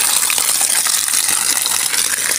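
Water gushes steadily from a faucet being tested at a water pump setup. It makes a close, continuous hissing rush with faint rattling splashes and no talking.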